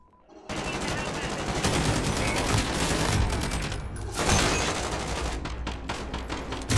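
Rapid video game gunfire fills a multiplayer domination match on the Vacant map, a dense continuous volley of shots with brief gaps, loud and close, mixed with pistol fire.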